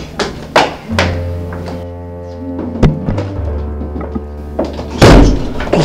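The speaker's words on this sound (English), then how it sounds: "Close the door." A door thuds shut close by with a heavy knock, among other bumps and taps and a low hum in the room, ending in a louder thump.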